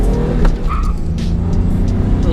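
A V6 Ford Mustang pulls hard in first gear from inside the car, its engine roaring loud and close with a short tire chirp mixed into the drone.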